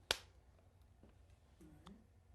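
A single sharp hand clap marks the start of a filmed interview take, one crisp close snap followed by quiet room tone and faint murmurs.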